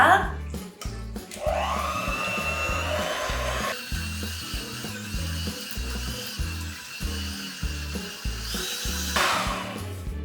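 An electric mixer beats butter with powdered sugar at low speed, giving a steady mechanical whir with rhythmic knocking against the bowl, close and continuous, under background music with a voice partly heard.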